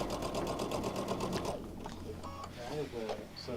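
A sewing machine quilting with a 1/4 inch quilting foot and guide whirs steadily for about a second and a half, then stops, and a person talks nearby.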